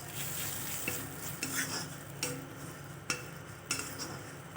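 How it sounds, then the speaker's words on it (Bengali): Fried onion and oats are stirred together in a pan, spatula scrapes and light metal taps recurring roughly every second over a faint sizzle, close but quiet. "দিয়ে একটু নেড়ে চেড়ে নেব।"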